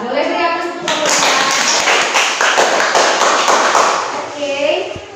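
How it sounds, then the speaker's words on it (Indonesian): Classroom applause for a student group during a microteaching lesson on the human respiratory system: a sustained burst of clapping from a room of students, with some children's voices and shuffling mixed in. "boleh beri aplaus untuk kelompok 2"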